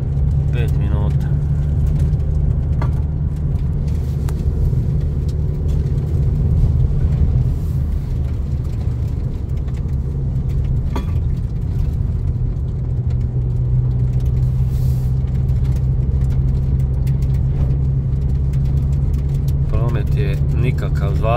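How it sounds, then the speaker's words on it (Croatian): On a snowy road toward Krasno in Lika, at around freezing, a single car rumbles past at a moderate distance, a long swelling and fading engine and tyre hum heard over steady background noise. "poneki automobil prođe."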